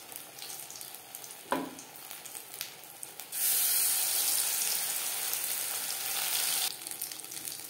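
Battered pumpkin flower fritters go into hot oil, starting with a low crackle and a sharp thump, then bursting into a loud, steady hiss of deep frying that eases off near the end.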